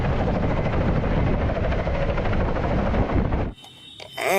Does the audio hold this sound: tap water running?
no